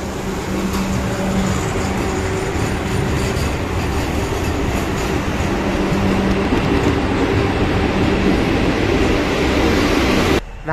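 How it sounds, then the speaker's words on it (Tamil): Rumble of the Chennai–Nagercoil Vande Bharat train at a station platform, a steady, loud rolling roar with faint rail clatter, no voices. "சென்னையிலேருந்து நாகர்கோயில் போகிற வந்தே பாரத்."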